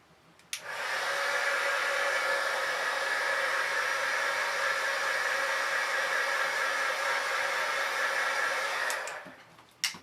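A hair dryer blows on matte medium spread over an art piece, a loud, steady close-up whoosh that switches on sharply, runs for about eight seconds and then cuts off.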